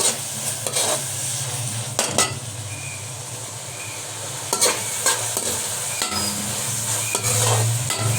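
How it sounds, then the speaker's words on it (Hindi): Fish fries with ginger in a pan, a steady sizzle punctuated by several sharp clinks and scrapes of a utensil as it is stirred, close and without talk. "फिर इसे हिलाएंगे, अच्छी तरह फ्राई करेंगे"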